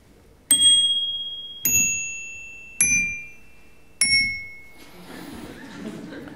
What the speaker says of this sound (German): Ein schwaches und dumpfes Glock ist der einzig hervorzuzaubernde Ton.